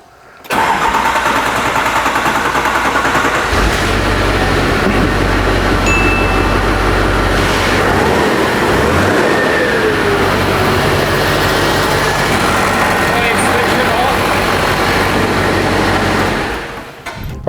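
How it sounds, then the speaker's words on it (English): A Duramax diesel engine cranks and fires up, then settles into a loud, steady rumbling idle that runs close by for most of the clip before fading out at the end. "So hopefully it just fires straight up. It should do, it's a Duramax."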